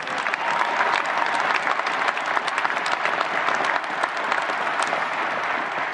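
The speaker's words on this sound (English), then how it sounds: "We applaud and salute you all." An audience applauds steadily at a ceremony honoring Air Force veterans and Academy graduates, a dense, even wash of clapping that continues without a break.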